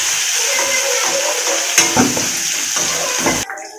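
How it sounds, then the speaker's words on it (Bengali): Potatoes fry in hot oil in a kadai with a loud, steady sizzle, broken by a few utensil scrapes before the hiss abruptly drops away. "এই তেলের মধ্যে এবার আমি আলুগুলো ভেজে নেব।"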